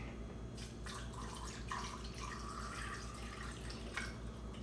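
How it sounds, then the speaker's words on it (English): Tap water runs steadily into a pot of chicken and seasoning for broth, a continuous splashing hiss with a few brighter drips and clinks close by. "Now, I do want to run some water in it."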